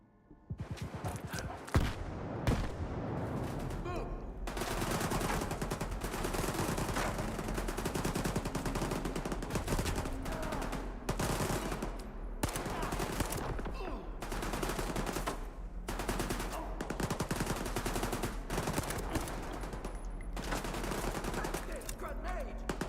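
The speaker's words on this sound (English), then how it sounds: "Whoa, who's shooting me?" Sustained automatic gunfire aimed at the player in the S.T.A.L.K.E.R. 2 video game, loud rapid bursts almost without pause for over twenty seconds, with a few short gaps between volleys.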